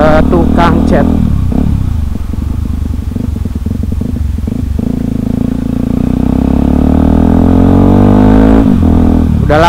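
A Yamaha WR155R motorcycle being ridden, its engine droning steadily and loudly throughout with a rev change near the end, heavy wind and road noise over it.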